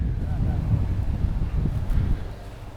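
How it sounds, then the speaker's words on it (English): Strong wind buffets the microphone on an open golf course during U.S. Open local qualifying, a steady low roaring rush with gusty swells that stays loud throughout before easing slightly at the end. "The wind is howling"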